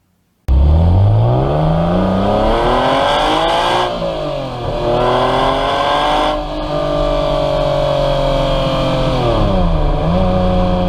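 A loud sports car engine with an aftermarket exhaust revs up and down repeatedly, its deep, raspy exhaust note rising in pitch, dipping, then holding a sustained high drone.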